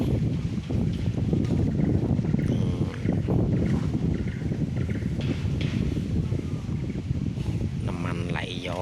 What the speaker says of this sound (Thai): ลมหนาวลมพัดวิววิวนี้ด้วยนะครับ